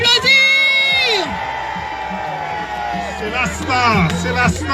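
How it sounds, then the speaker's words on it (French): A crowd at an evening gathering whoops, yells and cheers loudly and continuously, with rising whistle-like shouts and a hubbub of voices filling the whole stretch. "Est-ce qu'on peut l'applaudir?"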